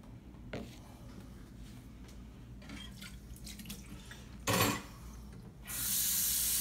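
Hot tap water running into a shave soap container, starting with a few drips and short splashes, a brief loud gush, then a steady hissing stream of water filling the container at close range.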